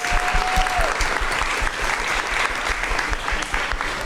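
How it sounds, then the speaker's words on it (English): An audience at a school governing board meeting applauding a student athlete, dense sustained clapping from many hands filling the room. "One more round of applause for our young student athlete."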